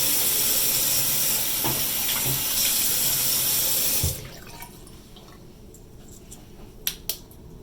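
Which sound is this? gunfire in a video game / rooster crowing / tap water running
tap water running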